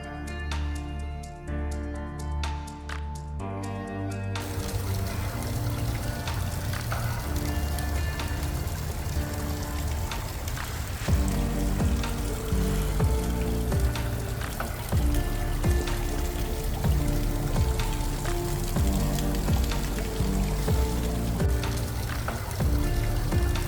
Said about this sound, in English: this waterfall has been and will always be a natural fed waterfall.